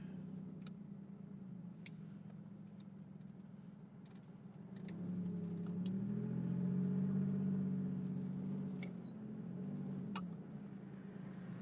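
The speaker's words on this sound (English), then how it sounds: "Go ahead, fast car." A car passes at night, its engine hum swelling from a low drone to a louder peak midway before easing off again, heard from inside another vehicle with faint ticks and clicks.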